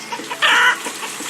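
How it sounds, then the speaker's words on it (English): Chickens in the city-building game Banished cluck, with one louder, sustained call in the middle and softer clucks around it. "And the chickens are going to start walking over right now."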